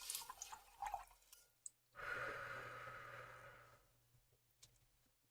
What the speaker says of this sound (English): I'm just going to go ahead and wash out my brush